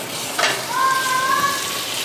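A spoon stirs biryani in a pot, giving a wet, scraping churn over a steady low hiss of cooking, with a brief high whistling tone partway through.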